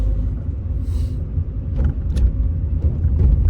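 A Renault Twingo 2 idles and pulls away in a parking area, a low engine rumble that swells gently with faint mechanical clicks over it, heard from inside the car.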